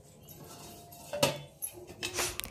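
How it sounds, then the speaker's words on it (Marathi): A metal lid set down over a plate of gram-flour batter steaming in a kadhai, giving a short clatter followed by a few lighter knocks and scrapes of kitchenware, close and moderately loud. "आता आपल्याला या पिठाच्या वरून झाकण ठेवायचं आहे."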